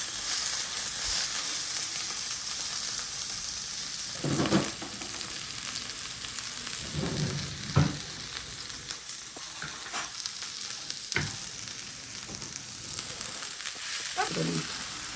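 Grass-fed ground beef sizzles in a hot cast iron skillet with olive oil, giving a constant close crackle broken by occasional scraping stirs.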